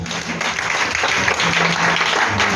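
A church congregation claps together in a dense, loud burst of applause that carries on steadily for a few seconds, close and full.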